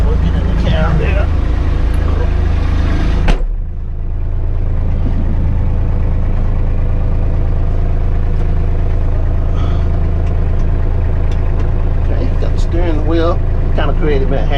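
Inside the cab of a Kubota B2650 tractor on a hot, muggy day, the engine hums loud and steady, dropping briefly before settling into a constant low drone, with someone talking over it at times.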